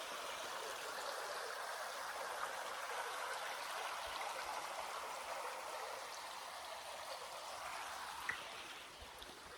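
A creek in a redwood forest rushes in a steady, broad wash of flowing water, constant and moderately quiet, with one small knock near the end.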